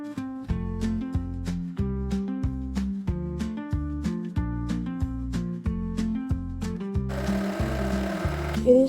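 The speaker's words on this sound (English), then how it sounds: "Then sew it into a diagonal line." Sewing machine stitching fabric in a diagonal line while a skort is made, a close, even run of rhythmic mechanical thumps that rises to a louder, busier whir near the end.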